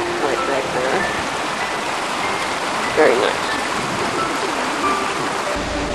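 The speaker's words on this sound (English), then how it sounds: "you have a nice little babbling brook right back there" Babbling brook beside the Peak Forest Canal on the Marple lock flight, a steady broadband rush of running water heard close and continuous, with someone briefly speaking over it.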